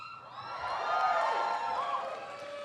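A commencement crowd at Bard College cheers and whoops for a graduate's name, a swelling wash of applause and high calls that peaks midway and holds steady.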